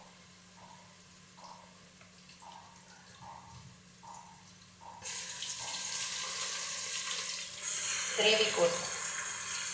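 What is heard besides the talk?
water poured into biryani gravy while cooking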